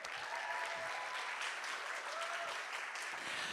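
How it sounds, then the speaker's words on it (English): Audience applause at an arts festival evening of dance performances: a steady, dense wash of clapping from a sizeable crowd, sustained evenly throughout without voices. "I want to give a round of applause to Helen Lee, who curated this event."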